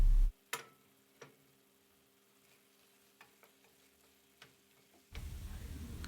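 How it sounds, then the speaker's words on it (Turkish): Minced meat sautéed with tomatoes, peppers and onions in a pan, a faint soft sizzle broken by occasional spoon taps and scrapes, with louder rushing noise at the very start and end, no voices. "Bütün lezzetini birbirine geçmesi için karıştırıp yaklaşık 2 dakika daha kıyma sotemizi pişiriyoruz."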